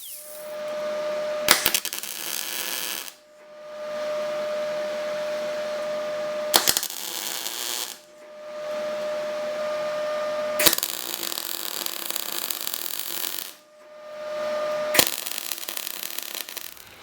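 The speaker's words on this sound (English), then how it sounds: "Just cut these studs off because they're in the wrong place." Studs on an exhaust pipe are cut off with a power tool in four long bursts, each a steady, loud grinding whine broken by short pauses and sharp clicks as the tool starts and stops.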